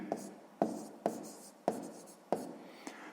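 A pen scratches across paper while a sixth-grade maths answer about spending on varnishing is written out: about six quick strokes at a steady pace, close and quiet, with no voices.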